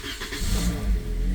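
A car engine turns over and catches after a jump start from a GOOLOO GT4000 portable jump starter, rising into a steady idle over a brief stretch with no talk.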